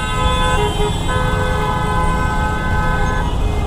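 A hydraulic horn blares in a continuous, loud, sustained tone on a vehicle in traffic, with other horns and engine rumble around it on a busy road.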